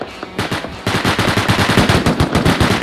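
Loud rapid automatic rifle fire in the survival game Rust, an opening pop followed by a steady, sustained burst of evenly spaced shots close up.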